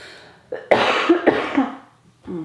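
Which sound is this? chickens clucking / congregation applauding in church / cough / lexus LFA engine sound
cough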